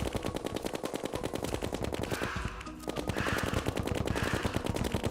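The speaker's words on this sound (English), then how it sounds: "I want to see how he does against this weapon that I'm firing at him" Rapid-fire weapon shooting at an enemy in the Terraria video game, a dense, continuous stream of gunfire-like shots with a brief dip midway.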